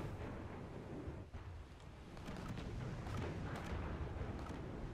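Heavy naval cannons of the Graf Spee warship in War Thunder rumble and roar as a thick, continuous low boom, dense and loud throughout with rolling blast-like swells, no voices.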